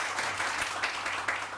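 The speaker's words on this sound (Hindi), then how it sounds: "तालियां गुड" A studio audience on a morning TV show gives a short burst of moderate clapping, a dense patter that stays even for a moment.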